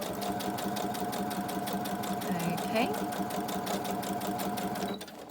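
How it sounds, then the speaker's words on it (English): A sewing machine stitches around the edge of a fabric pocket, running steadily and fast with a rapid even needle rhythm, fairly close, stopping near the end; someone speaks briefly over it. "I can't believe that I've got my sewing machine up here."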